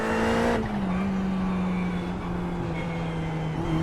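A Ferrari GT3 race car in the iRacing sim holds a steady engine drone, which drops sharply in pitch as the throttle eases after a brief dab, then hums on evenly and close.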